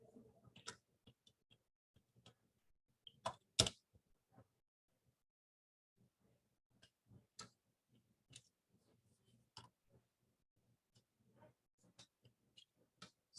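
Computer keyboard typing in short scattered bursts of quiet clicks and taps, close and soft against near silence, with gaps between bursts.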